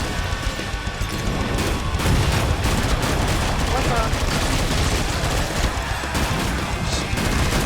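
Gunfire in the video game Killing Floor 2, a loud dense fusillade of rapid shots and crashes filling the whole stretch with little letup, with a voice briefly under it.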